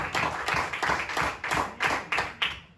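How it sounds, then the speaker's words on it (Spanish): Church congregation applauding during a sermon, rhythmic bursts of clapping in a regular pulse, fairly close and reverberant, with no talking over it. "Démosle ese fuerte aplauso al Señor"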